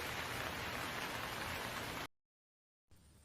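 Summer rain pours down in a dense, even hiss that cuts out abruptly to silence for nearly a second, then resumes more quietly.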